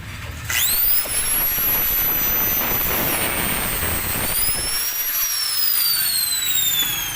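A screw fitted into the thread of a Honda Supremo camshaft cover holder is cut with a power tool, its high whine starting abruptly and holding steady, loud and close, for several seconds with pitch shifting slightly.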